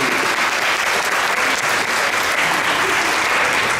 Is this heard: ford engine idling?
no